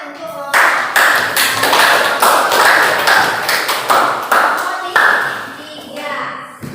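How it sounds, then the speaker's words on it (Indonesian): Classroom students clap for a group after its presentation, a dense burst of close hand claps with uneven rhythm lasting several seconds, some small pauses and swells, with faint kids' voices mixed in. "tepuk tangan untuk kelompok"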